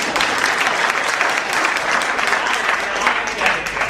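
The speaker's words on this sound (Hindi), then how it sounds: "तो ताली बजा दीजिए" An audience at a Hindi poetry recitation breaks into sustained, dense applause lasting several seconds, loud and even throughout.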